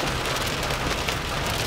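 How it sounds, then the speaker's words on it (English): Steady rain pours down on a Texas lake during a kayak fishing trip, a dense, even patter of drops that fills the whole moment with no voices. "I don't mind fishing in the rain, but I'm not gonna fish in the lightning like that."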